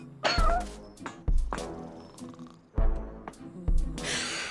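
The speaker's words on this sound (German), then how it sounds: "Es ist wirklich eine Katze." Cartoon cat meowing in the video game Lost In Play, several short mewing calls in quick succession over a busy game soundtrack, moderately loud and close.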